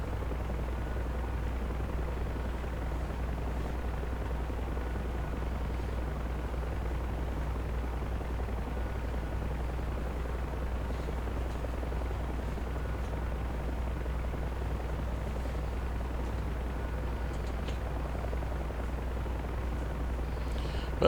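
Bell UH-1 Huey helicopter in DCS World flying low over the Persian Gulf, a steady loud rotor and turbine drone throughout with constant low thumping and no talk.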